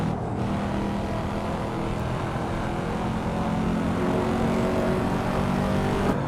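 A Corvette C4 ZR1 with over 400 horsepower and semi-slick tires in the Assetto Corsa racing game, its engine a steady, loud drone that builds slightly as the car accelerates, with no pauses throughout.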